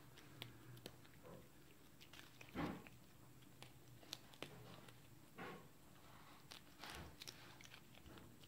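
A Chihuahua chewing crunchy dog food indoors, a faint close-up series of irregular bites and crunches scattered through a quiet room, with a few louder crunches standing out.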